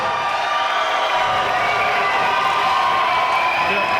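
Steady crowd noise with cheering and shouts fills a combat sports venue around a bout between Brogan Anderson and Arthur Lasike, loud and continuous throughout without a break.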